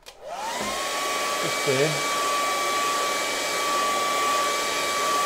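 A hair dryer blows steadily to dry acrylic paint on a waterfall landscape painting, a loud continuous whirring with a steady high whine, starting from silence and running throughout, with a brief spoken remark near the start.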